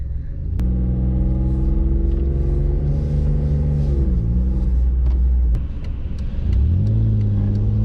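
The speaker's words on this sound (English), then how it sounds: "So we're just gonna start driving home now." A car drives along a road on a solo trip home, its mid-pitched engine rumbling loudly and steadily up close, with the tone dipping and rising as it shifts or changes speed.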